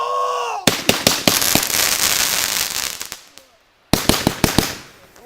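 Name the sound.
fireworks exploding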